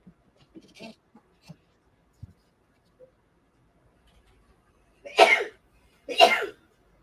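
A woman sneezes twice in quick succession, loud and close, after a few seconds of faint small noises in a quiet room.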